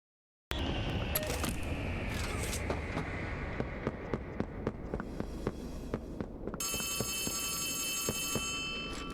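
A telephone rings inside the horror video game Poppy Playtime Chapter 3, its repeated tones sounding over a loud, dense game soundscape. A steady bright electronic tone joins near the end.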